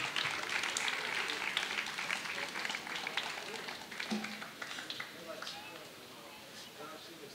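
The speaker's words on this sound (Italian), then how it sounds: "Un applauso a Simona." An outdoor crowd in a piazza in Pejo claps for a spa doctor named Simona, moderately loud applause that slowly thins out, with voices talking beneath it.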